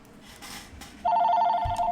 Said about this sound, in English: that's my house phone.